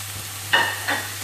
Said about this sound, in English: we're going to throw the nicely diced up tomatoes that we had earlier into the pan